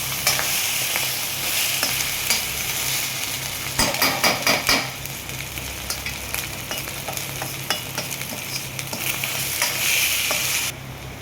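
Egg Maggi noodles stirred in a hot pan, a steady sizzle and frying hiss with repeated scraping clicks of a utensil against the metal, continuous and close, with no talking.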